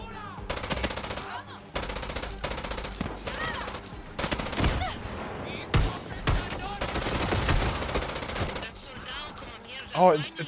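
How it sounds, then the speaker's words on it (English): Rapid bursts of automatic gunfire crack loudly in a Far Cry 6 firefight, with choppy volleys, short gaps and scattered single shots over about ten seconds. "it's cracking every time I shoot"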